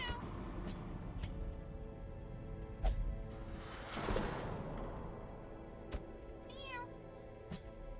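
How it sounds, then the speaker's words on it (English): A domestic cat meows a few times, fairly close and clear, over a low steady background hum with no one talking. "That's what you sound like, kitty cat."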